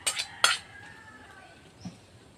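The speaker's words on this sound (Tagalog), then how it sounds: "Atin ho nga haluin ulit ng pabaliktad at pabalintaw mga idol." A utensil scrapes and clinks twice against a pan while pancit canton noodles are tossed with their vegetables and meat, followed by a faint knock and quiet room noise.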